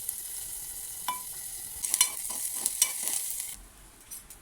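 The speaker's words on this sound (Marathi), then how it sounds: "त्यानंतर बारीक चिरलेला कांदा घातला। तो चांगला तेलामध्ये परतून घ्यायचा।" Finely chopped onion sautéed in hot oil with curry leaves for a spicy Maharashtrian ridge gourd curry, a close steady sizzle with a few stirring scrapes, no voices.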